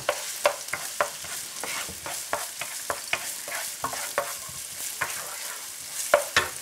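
Chopped garlic and onion cook in a pan, a soft sizzle broken by regular scraping and clinking strokes of a utensil stirring against the pan, close and steady with no talking.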